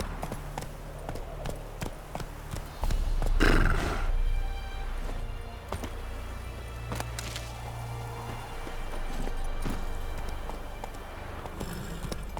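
Roach, a horse in The Witcher 3: Wild Hunt, gallops with steady hoofbeats and a whinny under game ambience, with a louder burst around the middle.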